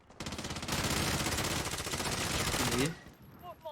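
Rapid automatic gunfire from the battle royale video game Warzone Resurgence rattles continuously for nearly three seconds, loud and dense, then cuts off, with a voice speaking underneath.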